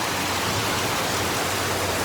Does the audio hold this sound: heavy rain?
yes